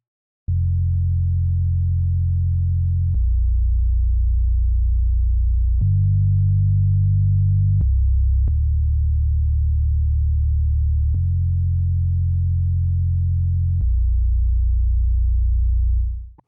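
An Ableton-made hip hop bassline plays deep, sustained bass notes that change pitch every few seconds, steady and loud with no drums or voices clearly standing out.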